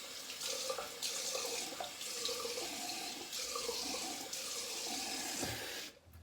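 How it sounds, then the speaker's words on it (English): Cold tap water runs steadily into a sink during a straight-razor wet shave, a continuous close splashing flow that stops abruptly near the end. "And then cold water rinse."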